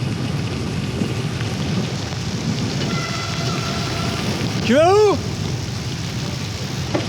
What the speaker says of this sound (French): Il se remet à pleuvoir.